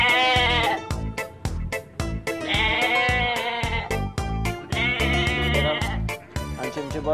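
Sheep bleat loudly several times in a row, with strong rhythmic thumping sounds running underneath.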